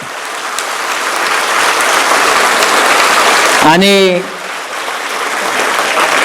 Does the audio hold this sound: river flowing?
no